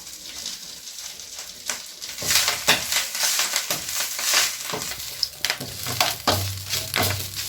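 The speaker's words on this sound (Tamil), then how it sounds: "நல்லா ரோஸ்ட்டு ஆகிற மட்டும் வறுத்துக்கலாங்க." Curry leaves are dry-roasted and stirred in a pan, a close, crackling, rustling sizzle with sharper scrapes and clicks as they are tossed, steady throughout and with no talking.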